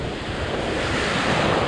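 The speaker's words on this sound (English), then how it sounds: "Probably hear the waves" Ocean waves wash steadily onto a beach during smelt fishing, a loud continuous surf roar mixed with heavy wind buffeting the microphone, with no voices.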